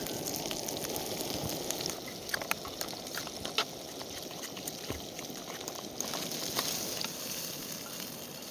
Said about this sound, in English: frying some sausages